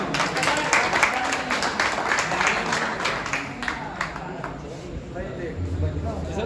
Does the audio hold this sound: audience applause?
yes